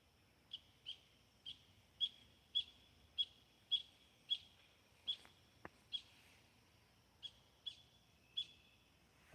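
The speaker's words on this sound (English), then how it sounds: "That's a bird." A bird repeats a short, high chirping call at a steady rhythm, fairly faint against a quiet outdoor background in a wooded park.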